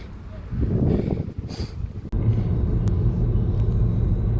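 A car pulls away on a road with a low engine rumble and road noise building, broken by a brief clunk midway, with wind buffeting the microphone and a voice early on.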